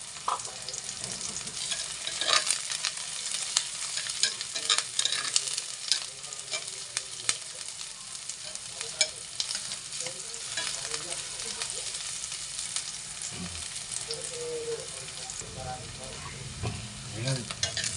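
Garlic sizzles in a pan for a canned Hokkaido dish with patola, steadily frying close by while a utensil scrapes and stirs it, with a few brief clinks.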